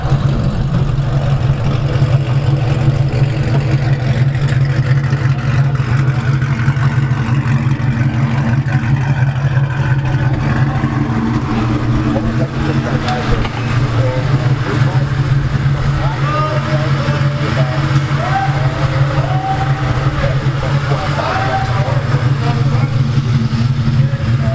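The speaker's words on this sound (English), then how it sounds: "Now it sounds like a freaking race car." A Ford Mustang engine rumbles loudly and steadily, idling with occasional revs, while people talk intermittently over it.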